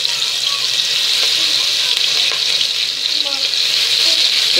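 Garlic frying in a pot while being stirred, a steady loud sizzle with occasional scraping clicks throughout, no talking.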